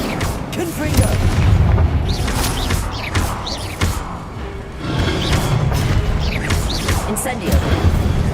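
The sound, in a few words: Incendio and Confringo spells cast in Hogwarts Legacy video game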